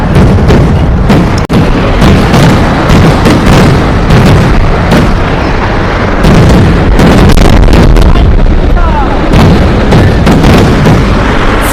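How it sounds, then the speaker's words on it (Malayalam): Daytime fireworks of the Paramekkavu display at Thrissur Pooram: a rapid, dense barrage of loud booms and cracking bursts fills the whole stretch almost without pause, with no talking heard. "വെടിക്കെട്ട് തുടങ്ങി. പാറമേക്കാലിൻ്റെ വെടിക്കെട്ടിലാണ്."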